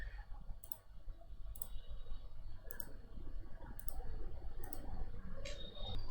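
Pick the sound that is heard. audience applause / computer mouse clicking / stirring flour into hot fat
computer mouse clicking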